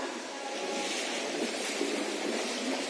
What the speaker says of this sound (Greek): Πλατσουρίζοντας στην Πικροδάφνη.